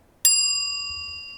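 A single bright bell ding rings out once, clear and close, its metallic tone fading slowly.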